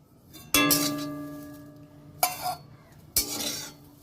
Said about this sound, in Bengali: এই বাটির মধ্যে আমি তুলে নিচ্ছি